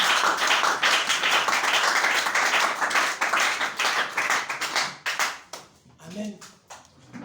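Church congregation at a Sunday service breaks into sustained clapping and cheering, a dense wash of many hands that thins into scattered claps and voices near the end.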